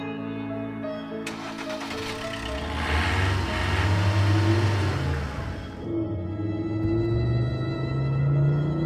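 A car engine in a video game revs up and pulls away, a steady mid-range rumble that swells after a brief clatter and holds, with the pitch climbing and falling as it drives off, no voices over it.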